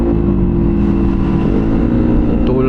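Modified Yamaha Aerox scooter engine running loud and close with a steady, rough mid-range drone and strong harmonic buzz, holding an even revving note throughout with no talk over it.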